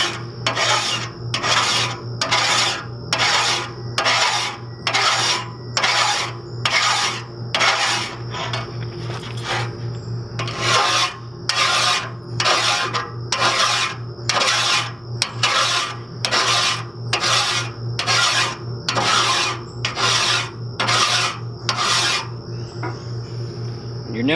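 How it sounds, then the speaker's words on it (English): A hand file rasps steadily across the teeth of a chainsaw bar in a regular rhythm of close, crisp strokes, about two per second, over a faint constant hum. "Okay, so now I'm just going to continue filing all the way around the bar from the tip"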